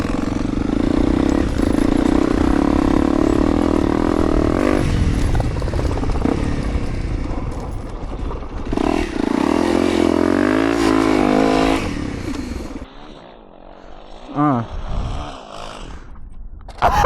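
Small motorbike engine working up a short dirt hill climb during an urban ride, loud and close for about twelve seconds with a sustained droning note and rising revs, then dropping away to a quieter idle and brief bursts.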